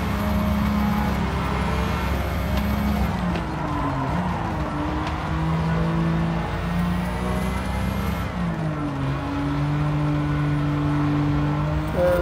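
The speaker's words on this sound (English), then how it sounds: "That engine's going crazy." Racing video game car engine, a 1994 Nissan Skyline R32 GT-R among a pack of racers, revs hard and steadily with rising and falling pitch as gears shift, loud and continuous with other engines droning under it and no talk.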